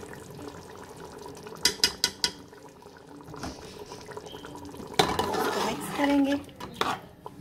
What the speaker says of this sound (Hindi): अच्छे तरीके से इसको मिक्स करते जाना है, चम्मच चलाते जाना है